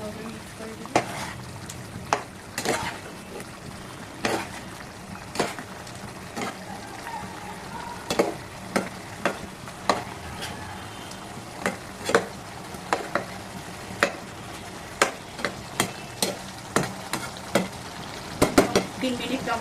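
Fried silver carp pieces simmer in a covered pan for a spicy fish curry, a low bubbling hiss punctuated by regular sharp clicks and taps, close and moderately loud, no talk.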